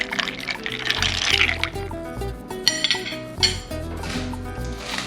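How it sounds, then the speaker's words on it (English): Ice goes into a mojito glass made with Cuban rum, clinking and rattling close up in several bright knocks, with some liquid sloshing underneath. "Add a bit more ice."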